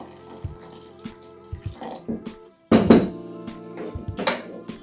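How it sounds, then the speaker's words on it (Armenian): Water is poured into a metal cooking pot while churchkhela is made in a home kitchen, with splashing, clinks and knocks of the pot and utensils, close and moderately loud. "հիմա նորից ջուր ենք ավելացնում"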